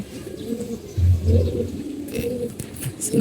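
A male fancy pigeon cooing in low repeated throaty phrases, close and clear, with a few light taps and rustles between calls.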